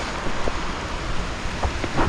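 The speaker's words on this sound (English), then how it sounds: "lingering rain" Steady morning rain hisses along the Pacific Crest Trail near Glacier Creek, a constant wash of falling drops with a few faint separate taps, heard alone with no voices.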